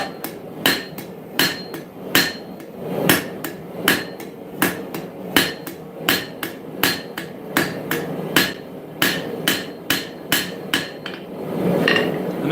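Hammer blows forging the bevel of a steel dagger at a smithing anvil, a steady run of about twenty sharp, ringing strikes in even rhythm, loud and close, with a brief quieter gap near the end.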